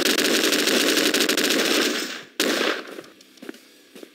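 Rapid automatic gunfire in a video game, a loud sustained burst for about two seconds, then a single sharp shot followed by scattered fainter reports as the firing dies away.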